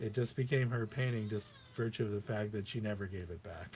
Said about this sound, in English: If you hear some strange noises in the background, that's my